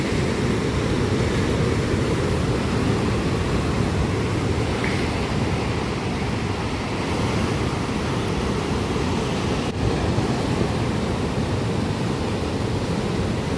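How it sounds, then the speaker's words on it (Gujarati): A rough, stormy sea sends waves crashing in a continuous loud roar of surf, dense and unbroken throughout with no talking. "દરિયાની વેરો જોવો પણ"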